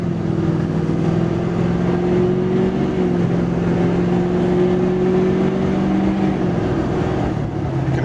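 Inside the cab of a 2006 Duramax LBZ diesel truck with a 5-inch straight pipe exhaust and windows up, a steady low engine drone hums at an even, moderate level with slight pitch shifts.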